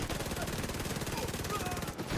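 Rapid automatic gunfire in The Division 2 video game, a dense continuous burst of sharp shots in fast regular rhythm, loud and close, cutting off briefly near the end before resuming.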